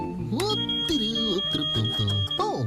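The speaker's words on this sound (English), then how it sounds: "I'm just checking the smoke detector to make sure it's still working" A household smoke detector gives a steady high-pitched test tone that rings under lively talking voices from nearby.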